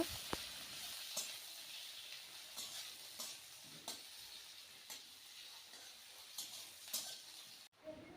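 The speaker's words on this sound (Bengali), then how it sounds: "তো পেঁয়াজটা আমি হালকা করে ভেজে নেব" Onion frying in oil with dried red chillies in a home kitchen, a soft steady sizzle broken by light taps and scrapes of a spoon stirring the pan at regular intervals.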